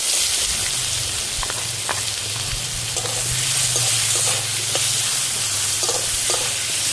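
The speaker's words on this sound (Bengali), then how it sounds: "পেঁয়াজটা একটু লাল লাল করে ভেজে নেবো।" Chopped onion frying in hot oil with cumin seeds, dried red chilli and bay leaf, a steady loud sizzle with occasional stirring clinks, close by and without talk, recorded during heavy rain.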